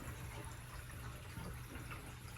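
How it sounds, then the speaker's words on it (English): Water runs through a drip irrigation line just after the system is de-winterized, making a faint, steady hiss and trickle that carries on evenly throughout with no voices. "And the water is flowing"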